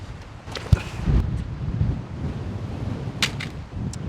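Wind gusts outdoors on a disc golf course, a rough low rumble of buffeting across the microphone with a few brief rustles and knocks.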